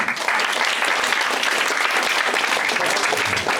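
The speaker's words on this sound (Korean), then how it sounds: "서로 격려의 박수를 해볼까요?" Students at a nationwide university fellowship's year-end thanksgiving service clap for one another in encouragement, a thick, continuous wash of applause from a large crowd that holds at a steady level from start to finish.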